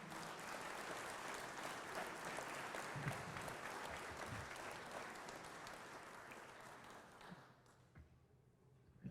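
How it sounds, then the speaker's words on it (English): An audience at a college hall of fame induction ceremony claps steadily in a hall, the applause thinning and fading out near the end. "Let's give Mike Ward a nice round of applause, everyone."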